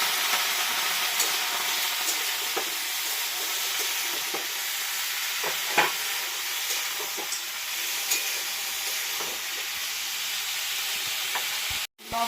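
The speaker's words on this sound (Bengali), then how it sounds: "পেঁয়াজটা একটু ভাজা ভাজা হয়ে গেছে, এখন আমি করলাটা দিয়ে দিলাম।" Bitter gourd, potato and onion frying in a pan for a prawn chorchori, a steady broadband sizzle throughout with scattered scrapes and clicks of stirring, close and fairly loud, no talking, cutting off sharply at the end.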